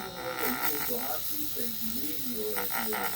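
A rotary tool grinds Tamiya putty with a wavering high motor whine whose pitch rises and dips as it bites, while background voices murmur underneath.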